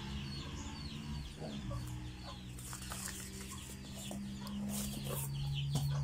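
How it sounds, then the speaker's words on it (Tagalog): Pet chicks and chickens cluck and peep steadily in the background, a busy overlapping chatter of fowl that carries on throughout at moderate distance with no speech. "yung maingay dyan namin. Alaga. Mga sisiw."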